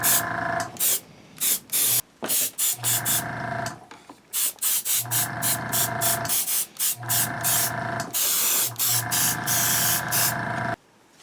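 Bursts of aerosol spray paint hiss across a full-size Alien flamethrower prop as it is coated back toward white, each pass lasting one to two seconds with brief pauses between, close and loud.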